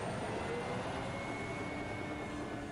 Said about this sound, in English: She's pulling the plane?